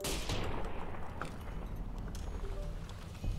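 Gunfire in the video game Fallout New Vegas comes as a faint, rapid string of shots over a low rumble, with no one talking.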